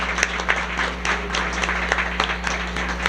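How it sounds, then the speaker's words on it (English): An audience at a community forum on water fluoridation breaks into sustained applause, dense clapping spread evenly across the room for a few seconds. "I'd love to have a round of applause for our experts tonight."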